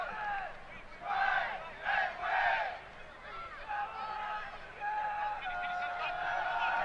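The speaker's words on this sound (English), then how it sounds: "Good crowd here" Crowd noise at a preseason MLS soccer match at Kino Sports Complex in Tucson, a moderate distant murmur with bursts of shouting and cheering rising and falling.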